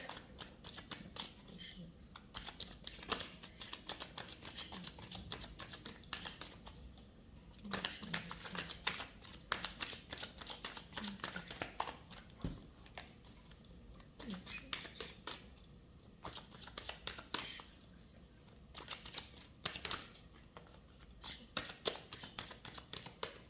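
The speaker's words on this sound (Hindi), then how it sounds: "Let me shuffle till then to get closer to your energies." Tarot cards shuffled by hand, giving a steady run of soft, rapid riffling and slapping taps that continues throughout at a low, close level, with a faint murmur underneath.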